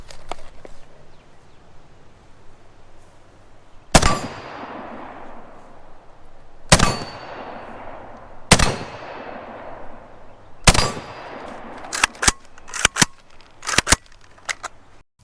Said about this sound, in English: I'm gonna shoot the last 4 rounds